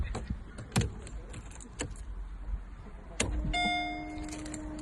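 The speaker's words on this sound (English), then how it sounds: "Mercedes key, pop that in." A Mercedes key for a supercharged V8 supercar goes into the ignition slot with a couple of near, distinct metallic clicks and jangles, followed by a steady electronic hum as the car wakes.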